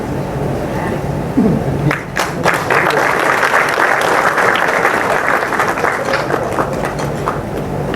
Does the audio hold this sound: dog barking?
no